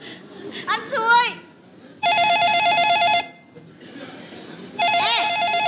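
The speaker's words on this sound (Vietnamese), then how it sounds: "Ê, điện thoại." A telephone rings in a Vietnamese comedy sketch, with two long electronic ringing bursts that sound loud and close, separated by a gap, while people talk just before and between the rings.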